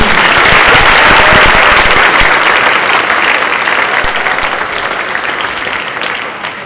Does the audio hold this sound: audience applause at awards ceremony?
yes